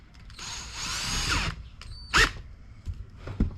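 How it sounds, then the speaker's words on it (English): A power drill drives a hand oil pump, whirring in a sustained burst that winds down, followed by a few short clicks and handling knocks. "Take our drill."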